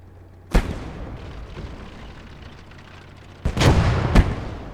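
Mortar rounds fire and explode in the World War II strategy game Call to Arms: Gate of Hell, with one sharp blast, then a rumbling pause, then a cluster of two heavy booms close together.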